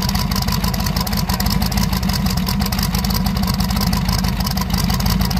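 A Chevrolet S10 truck built to 800 horsepower runs steadily, its engine giving a loud, continuous, rough rumble that holds at a constant level throughout with no pauses.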